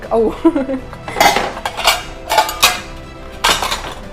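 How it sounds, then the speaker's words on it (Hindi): A non-stick pan and its lid are handled while packing luggage, giving sharp metallic clanks and clatters in several bursts, close by, with quieter handling noises between them. "सो इसमें एक नॉन स्टिक का पैन है और उसका लिड"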